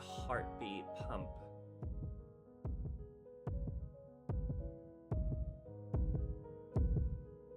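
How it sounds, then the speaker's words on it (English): A heartbeat sound effect from an animated episode thumps in slow, even, heavy pulses, about eight beats at a steady rhythm with a low throbbing hum, while someone talks briefly at the start. "The heartbeat pump."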